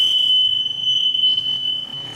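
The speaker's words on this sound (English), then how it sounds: "I don't know if that's a smoke detector" A shrill, piercing smoke alarm tone sounds continuously and loudly, with faint low background noise beneath it.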